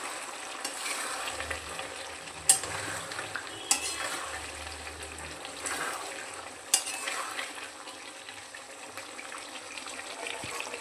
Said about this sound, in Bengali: কষাতে কষাতে তরকারির পুরো জলটা শুকিয়ে ফেলতে হবে।